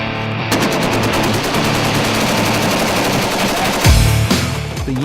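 M249 belt-fed light machine gun in 5.56mm NATO firing long sustained automatic bursts outdoors, a loud rapid hammering stream of shots with a brief break near the end, no talk.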